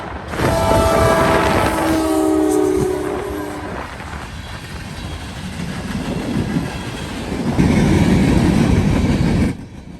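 Freight train B158 with empty coke loads, led by a pair of YN2 locomotives heading east, passes close by: a loud horn blast at first, then a steady rumble and rail clatter that swells again before fading.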